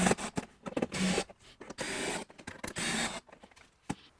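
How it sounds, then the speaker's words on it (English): Screws driven into a curvy wooden seat on a buck, with several bursts of whirring power-driver noise separated by short pauses and small clicks, fairly close. "I'm going to put the screws into place."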